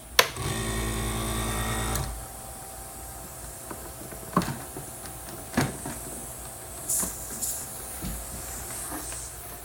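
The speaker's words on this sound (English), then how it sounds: "You'll hear the compressor turning on and off." An air compressor on a B&G Versaduster hums steadily for a couple of seconds, then cuts off, followed by scattered clicks, knocks and a brief hiss of air.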